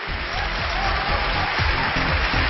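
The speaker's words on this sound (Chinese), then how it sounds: "掌声有请这一对" A studio audience on a Chinese relationship TV show claps continuously at moderate loudness as a couple is welcomed onto the stage, a dense even rush of applause throughout.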